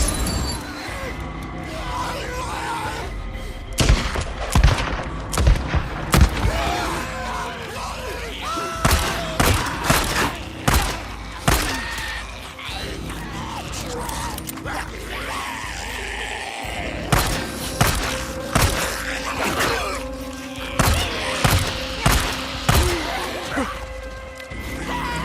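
Gunfire aimed at zombies in the video game Days Gone, with repeated sharp shots and impacts in uneven bursts over a dense, busy game soundscape, close and loud throughout.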